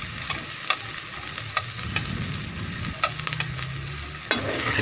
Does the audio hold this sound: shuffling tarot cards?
no